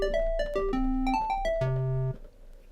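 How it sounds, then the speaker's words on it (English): A synthesizer square-wave tone plays a melodic line of sustained and short notes, its bright, hollow timbre rich in odd harmonics, loud and alone before fading out near the end. "the next shape we're going to look at is called a square wave,"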